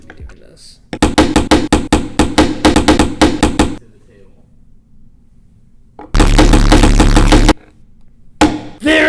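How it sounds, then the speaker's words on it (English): A hammer strikes rapidly over and over in a loud burst, driving a nail into wood, pauses, then pounds again in a dense flurry of blows. "nail the nail into the wood with the hammer"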